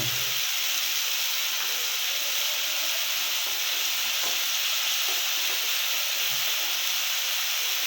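Garlic, ginger and cumin pastes fry in a pan with a steady, loud, hissing sizzle that continues without a break, heard close up and alone.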